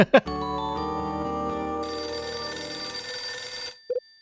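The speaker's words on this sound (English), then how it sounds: "Wouldn't you know, it's the phone again." A telephone rings in a video game, a single long sustained electronic ring that holds steady for several seconds before cutting off, followed by a brief short tone.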